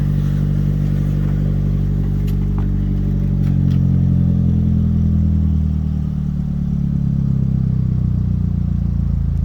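A Chevrolet Cruze engine with a blow-off valve setup and resonator delete idles steadily, a low rumbling drone that slowly settles as the revs fall, with faint clicks and clatter over it.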